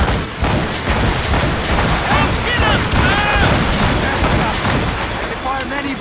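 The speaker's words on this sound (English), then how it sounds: "They fire many volleys." Naval cannon volleys in Assassin's Creed Rogue, heavy booming salvos and crashing impacts in rapid succession, loud and continuous, with shouted voices over the barrage.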